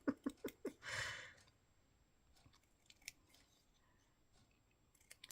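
Scissors snip paper for craft tags in four quick, close, crisp cuts followed by a longer slicing stroke, then faint handling sounds in a quiet room.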